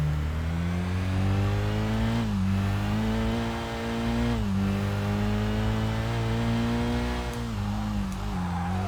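Car engine revving in the racing game Kaido Racer 2, a steady mid-pitched drone that climbs and drops through gear changes, loud and close with no voices over it.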